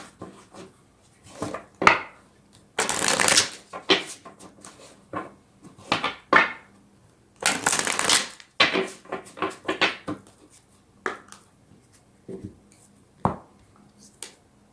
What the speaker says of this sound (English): Now let's get a tarot card for each of these.